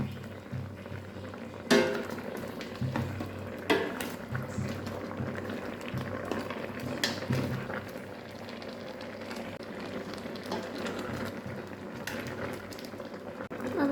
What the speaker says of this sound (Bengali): আমি রাইস কুকারে আম সিদ্ধ দিয়েছি আমগুলো সিদ্ধ করে নিচ্ছি